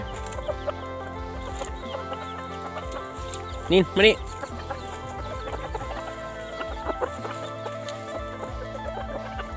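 Short-legged bantam chickens kept at a rural Thai home cluck on and off nearby while someone speaks briefly, with two louder, sharper calls near the middle.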